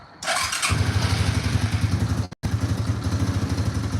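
A cold ATV four-wheeler engine cranks with a burst of clattering, then settles into a steady, loud, rhythmic chugging close by, with a brief dropout near the end before it carries on.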